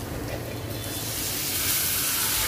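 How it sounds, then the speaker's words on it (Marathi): Soaked whole masoor lentils hit a hot tempering in a pan and sizzle in a dense, continuous hiss that swells slightly louder, close and with no talk. "आता यामध्ये घालते भिजवलेला मसूर"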